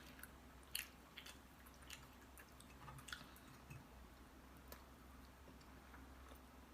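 Someone chews gristly steak close to the mic, producing soft wet squishes and a few sharper clicking bites in an irregular rhythm against quiet background.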